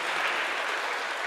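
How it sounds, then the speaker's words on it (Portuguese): Audience applause at a didactic symphonic music concert after a viola plays a short phrase, dense steady clapping filling the whole moment without pause. "Muito bonito, merece salva de palmas"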